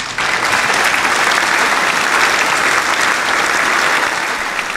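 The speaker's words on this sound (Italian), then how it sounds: "applauso al cornutore" Sustained applause from a studio audience on an Italian football talk show, dense and steady clapping at close range throughout with no talking over it.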